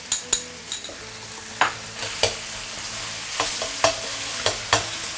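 Broad bean paste (doubanjiang), a mix of six-month and three-year pastes, fries over maximum heat in a wok, with a steady sizzle and sharp intermittent scrapes and clacks of a spatula stirring it.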